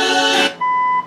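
A short electronic beep from an original AM radio in a 1965 Chevrolet Impala sounds close and clear after a brief burst of noise, holding a steady tone for under half a second.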